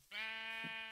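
A sheep bleats loudly and close by in one long, steady, wavering call, held after a short quiet start.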